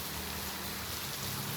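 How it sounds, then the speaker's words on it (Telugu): Heavy rain pours down outdoors in a dense, continuous roar of drops striking surfaces, loud and steady with no pauses or voices. "బయటికి కానీ ఫుల్ వర్షం పడుతుంది బాబు"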